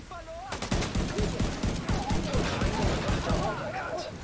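Rapid machine gun fire bursts in The Division 2, loud and dense throughout, with a voice talking over parts of it.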